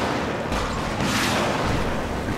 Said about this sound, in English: what the fuck was that explosion? I guess a rocket